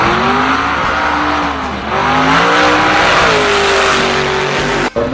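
No-prep drag racing car at Manston launching off the line and accelerating hard, loud engine roar rising in pitch through the gears with tyre squeal, close and dominant throughout, a brief cut near the end.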